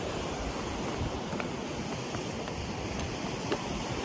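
Water rushing steadily in a stream just below a small waterfall at Usri Falls, a dense, even roar close to the microphone with no pauses and no voices.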